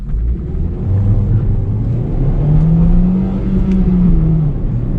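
Hyundai i10 with the 1.2-litre Kappa2 engine accelerating from inside the car, a loud steady engine drone rising in pitch through the gears over road rumble, with no talking.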